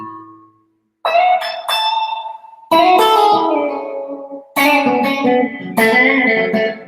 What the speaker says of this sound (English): see, I like that plate reverb setting.